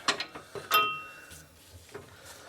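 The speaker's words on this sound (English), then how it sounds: "I'm gonna use a breaker bar on this one just to get it started." A breaker bar loosens the track bar bolt on a Jeep Cherokee XJ, giving a few sharp, close metallic clicks and a brief creak, then quiet shuffling.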